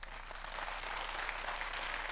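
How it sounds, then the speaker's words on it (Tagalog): Church congregation clapping loudly during a sermon, a brief, faint, continuous patter of many hands with no distinct individual claps, heard from a distance. "Kung naniniwala ka, pumalakpak ka ng malakas."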